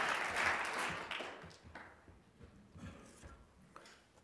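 An audience claps to welcome a speaker at a youth protection symposium, a burst of applause that fades quickly into scattered claps and room noise, fairly faint overall.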